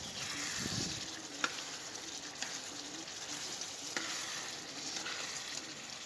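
Beef for biryani simmers in a pot with a soft steady sizzle, broken by a few sharp scraping clinks as the meat is stirred.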